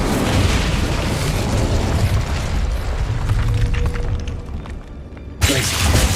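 Incendio fire spell blast in the Hogwarts Legacy video game: a loud, dense roaring burst that fills the clip, eases and thins near the end, then flares sharply again for a final blast.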